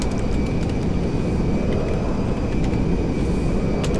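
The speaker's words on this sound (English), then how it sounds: "Now we just gotta land the plane and unload it." Airplane engine in GTA Online, a steady broadband drone that stays loud and even throughout, with no speech over it.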